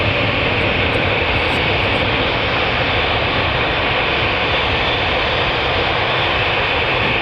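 Boeing 787 Dreamliner jet engines roaring loud and steady as the airliner climbs steeply after takeoff at Manchester Airport, a broad continuous rumble with no talk.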